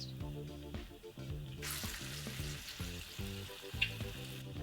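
Butter and garlic shrimp sizzling steadily in a hot pan while being stirred, with scraping and shifting sounds, a rhythmic musical beat running underneath and a small clink near the end.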